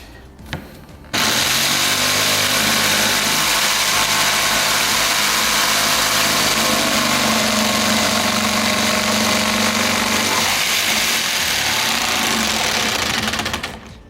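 A power saw blade is force-fed through wood for a hollow wooden surfboard, a loud continuous whining drone with strained vibration that holds steady for over twelve seconds before cutting off.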